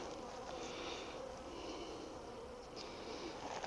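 Honeybees buzz steadily around a hive, a dense continuous drone close by, with no voices.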